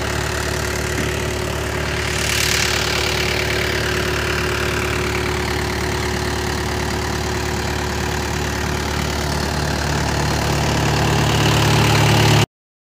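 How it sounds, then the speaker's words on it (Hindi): A Mahindra 575 tractor engine runs steadily at low revs beside a canal while irrigating a groundnut field, a close, continuous idling drone with a faint knocking pulse and no talk. "तो 12 की रेस पर ट्रैक्टर चल रहा है"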